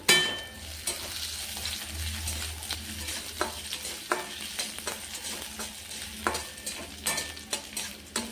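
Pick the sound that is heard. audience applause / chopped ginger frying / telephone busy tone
chopped ginger frying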